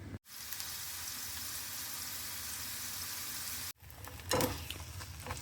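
Breakfast burrito filling frying in a pan, a soft continuous sizzle that cuts out briefly, then resumes with a louder stir or clatter near the end; quiet overall.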